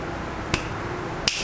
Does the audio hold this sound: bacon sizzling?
no